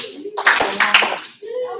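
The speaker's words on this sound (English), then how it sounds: "Give them a clap." A small group claps briefly for wrestlers during a kids' wrestling practice, a short burst of hand claps mixed with voices nearby.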